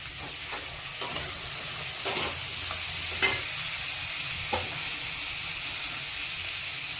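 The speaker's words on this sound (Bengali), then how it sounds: "বিনসটা দিয়ে একটু ভেজে নিলাম তারপরে দিয়ে দেবো পটল পটলটা দিয়েও একটু ভাজবো" Pointed gourd, beans and carrot frying in a pan, a steady sizzle with intermittent scraping and clinks as the vegetables are stirred, one sharper knock midway, no talking.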